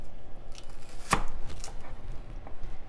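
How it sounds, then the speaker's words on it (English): A knife chops through celery on a cutting board, one sharp crisp cut standing out among a few softer, quieter knife taps close to the microphone. "I like to chop up the end and then cut it in the middle"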